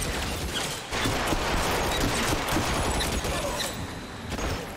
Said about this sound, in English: Gun jammed for a hot minute.